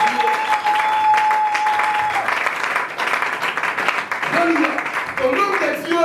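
A church congregation claps and applauds at a worship service, dense sustained clapping close by with voices and cheers rising over it.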